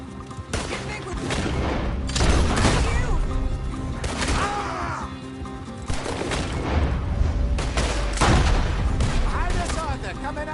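Gunfire erupts in a Red Dead Redemption 2 shootout on PS4, with loud overlapping shots and heavy booms landing in dense bursts throughout, and voices in the game's dialogue under the firing.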